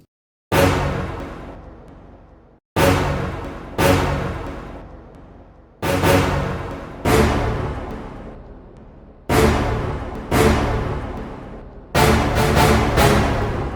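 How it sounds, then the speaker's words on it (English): Eight loud, punchy orchestral stabs with sharp attacks and decaying tails, spaced irregularly, the last ones coming in quicker succession; no voices. "It's orchestra hit, and that sounds like this."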